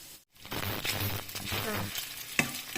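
Crispy flour-coated pork frying and being stirred in a pan, with bursts of sizzling and scraping strokes after a brief silent gap, ending in a sharp clink, nearby and fairly loud.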